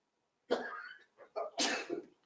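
A close, sharp sneeze, followed by a couple of short breathy bursts in an otherwise quiet room.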